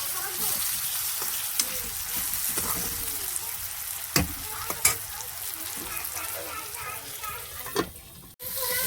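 Spices fry in a pan with a steady low sizzle, broken by occasional scrapes and clinks of a spoon stirring, while a voice speaks faintly in the background.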